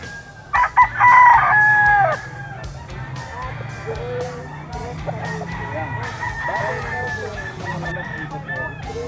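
A Spangle rooster at a grotto crows loudly and close by, one strained crow near the start, followed by softer clucking and background fowl calls over an outdoor murmur.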